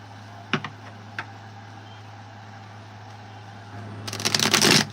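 A large oracle card deck being shuffled, a loud dense burst of riffling card flicks near the end after a couple of soft taps, close and without talk.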